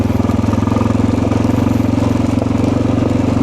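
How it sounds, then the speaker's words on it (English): Motorcycle fitted with a Dynojet kit, engine heard while riding: a loud, steady, close thumping rumble with a rapid even pulse and no talk. "hopefully my bike is loud enough that they'll hear me behind them"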